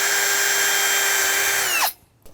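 Close, loud power drill whines steadily while driving a screw through metal into wood during storm door assembly, then winds down and stops abruptly, followed by a faint knock.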